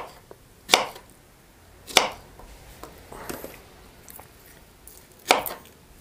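Four crisp knife chops slice strawberries into pieces on a cutting board, spaced irregularly about a second apart, close and distinct over a quiet room with faint softer cuts between.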